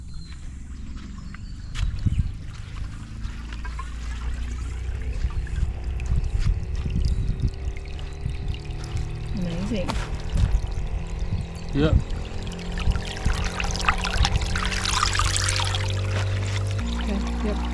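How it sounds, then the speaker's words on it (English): Water pours and splashes from a newly installed DIY solar bore pump as it slowly starts up outdoors, a steady broadband wash that grows under low mechanical hum, with brief spoken comments over it. "Oh, I can hear the water."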